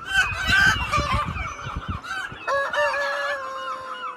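Chickens cluck and squawk close by, with a rooster-like crowing call rising near the end over scattered rustling.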